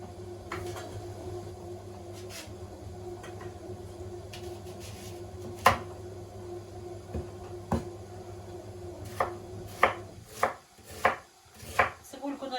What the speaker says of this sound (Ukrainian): Цибульку тепер наріжу.